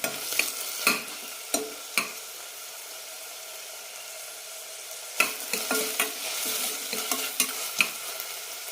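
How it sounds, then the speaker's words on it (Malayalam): Tomatoes sizzle steadily in a hot pan while a spoon scrapes and stirs in sharp, irregular bursts, close and fairly loud. "തക്കാളി ഒരു മിനിറ്റ് നന്നായി വഴറ്റിയെടുക്കാം"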